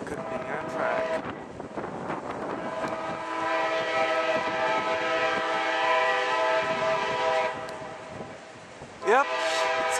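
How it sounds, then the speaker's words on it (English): An Amtrak train air horn blares in long sustained tones, fairly loud and a bit distant, over rumbling wheels and wind noise, ending with a rising squeal. "I'm hearing an air horn. I don't know whose it is. Could be Amtrak."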